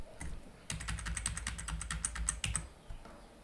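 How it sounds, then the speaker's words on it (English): Computer keyboard arrow keys are pressed in a quick run of about a dozen evenly spaced, crisp clicks, close and fairly quiet, over a low background hum with no talking. "let me use my arrow keys"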